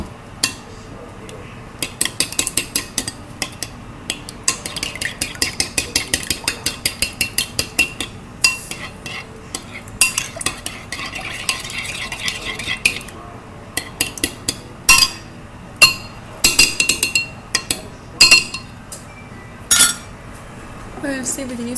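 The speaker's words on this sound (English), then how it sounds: "we're going to mix this all together" A utensil clinks and taps rhythmically against a bowl while baking ingredients are mixed, bursts of quick metallic strokes recurring in runs, close and fairly loud, with occasional sharper knocks.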